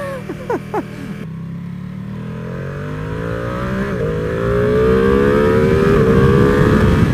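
A 2021 Ducati Panigale V2 in sport mode, heard up close at speed. After a short thump, the engine pitch climbs steadily and grows louder as the bike accelerates hard.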